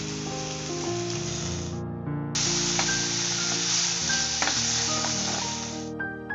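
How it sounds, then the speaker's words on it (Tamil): Boiled mutton pieces fry with golden onions and curry leaves in a pan, a strong, steady sizzle and hiss that stops briefly and then surges again, close and continuous. "வெங்காயம் இந்த மாதிரி பொன்னிறம் ஆனதும் பாயில் பண்ணி வச்சிருக்க மட்டன் பீஸை இது கூட போட்டுக்கோங்க"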